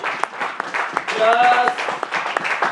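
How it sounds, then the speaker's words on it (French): A congregation at Capstone Tabernacle church in Denver, Colorado claps in a steady rhythm, with voices speaking and singing over the clapping. "You have to applaud."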